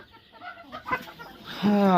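Backyard chickens clucking as they peck at and eat fresh coriander, short close clucks building into louder, sustained calls near the end.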